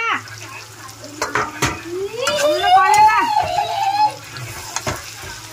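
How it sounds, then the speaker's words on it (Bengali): Meat frying in a pan with ginger, garlic and spices for a dinner dish, stirred with scraping and sizzling close by, while a person speaks over it. "মাংসটা আগে ভেজে নিলাম লাল করে আদা রসুন মশলা"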